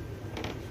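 The door of a DIY glass-shelf cabinet gives a short, quiet creak as it moves, set against a low, steady background hum.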